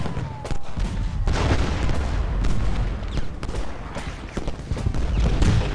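Musket volleys crackle across a Civil War battlefield in Ultimate General Gettysburg, loud overlapping shots and booms rippling continuously with scattered sharper reports.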